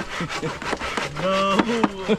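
A hand saw rasps through wood at a rest house construction site in quick back-and-forth strokes, with a brief squealing tone as the blade binds.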